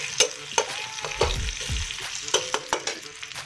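Onions sizzle in a hot pan while a utensil stirs them, producing soft crackling frying under a series of distinct scraping and clanking strokes, close and moderately quiet, with no voices.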